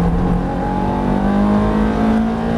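A Ferrari F430 engine on the Issoire race circuit holds a loud, steady, buzzing drone with the pitch climbing slightly as the throttle opens, heard from close by with no voices.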